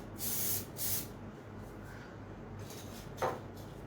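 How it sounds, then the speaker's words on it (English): Two short hissing bursts of hair shine spray close by, followed by quiet room tone and a faint third puff near the end. "just add little shine spray"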